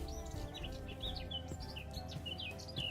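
Birds from a Minecraft sound-effects mod chirp and tweet in short, scattered bursts over a steady low ambient hum. The calls are moderately faint and continue throughout.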